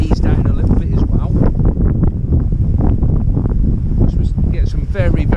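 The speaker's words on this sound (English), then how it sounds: "Get some very, very strong gusts at the moment." Strong gusts of wind buffet the microphone by the water on a blowy day, a loud continuous roar with surges throughout, while a person talks over it.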